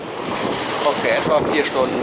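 Steep, choppy waves on Lake Vättern wash against a motorsailer under way, a steady rushing slosh mixed with wind buffeting the microphone, with a person speaking briefly over it.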